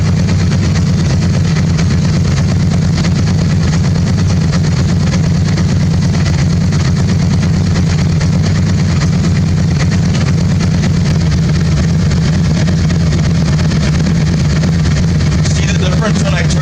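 A Yamaha V-Star 650 motorcycle engine idles during carburetor synchronization, a loud, close, steady low rumble holding even throughout, with a slight change in tone near the end.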